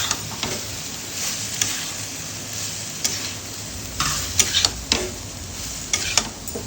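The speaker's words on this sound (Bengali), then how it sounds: "ভালো করে জিনিসটাকে মেশাবো।" Pasta and soy sauce being stirred in a pan, with spatula scrapes and light clinks against the metal set over a steady soft sizzle, the scraping coming in irregular bursts.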